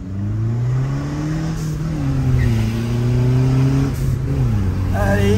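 A car engine revs steadily and loudly, its pitch climbing and falling through gear changes, with a brief spoken word over it.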